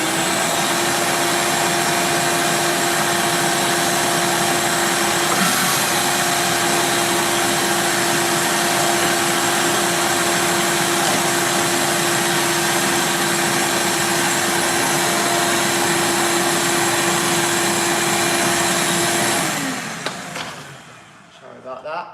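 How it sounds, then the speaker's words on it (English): A household vacuum cleaner runs loudly and steadily with a whining motor drone for about twenty seconds, then switches off and winds down near the end. "Turning the vacuum on."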